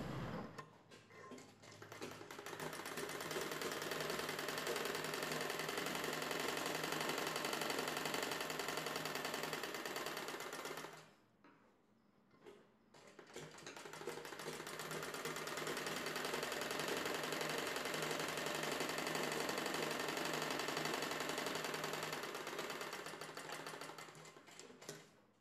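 A sewing machine stitches a blouse waist belt in two long, steady runs of fast whirring, close and loud, separated by a short pause.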